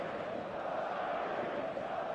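Stadium crowd roar before kickoff in eFootball 2026, a steady, dense wash of cheering and chanting from a large crowd, sustained throughout without breaks.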